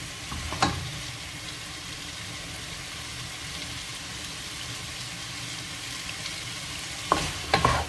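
A Kerala chicken roast, a varutharacha-style chicken curry, fries in a pan with a steady broadband sizzle, while sharp scraping clacks of the stirring spoon break through near the start and again at the end.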